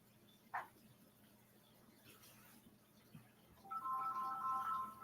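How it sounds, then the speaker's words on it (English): A mobile phone ringtone starts faintly toward the end, a repeating electronic melody over a quiet room, after a brief chirp earlier. "my phone is ringing"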